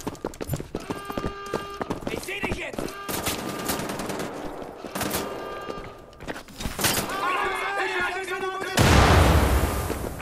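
Assault rifle gunfire in the shooter game Wolfenstein: The Old Blood, with bursts of shots and game effects mixed among other in-game sounds, a loud rushing noise near the end.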